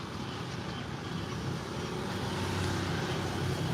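A large metal truck rumbles past on a town street in Kampot, Cambodia, a continuous heavy low engine drone with road noise that swells slightly louder as it nears.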